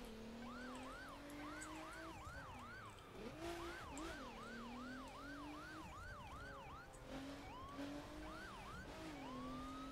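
A police siren from a Nissan GT-R police car in the racing game The Crew wails in repeated rising-and-falling cycles over a steady engine drone, loud and close, switching off briefly and then resuming with a different pattern.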